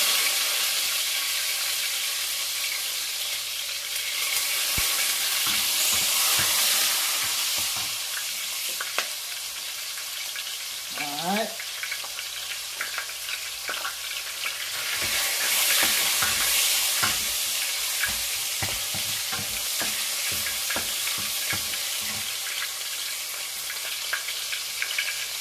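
Tomato frying in a pan for a pollock and spinach legume dish, with a steady bright sizzle and repeated scraping strokes of a spoon stirring through it, no voices.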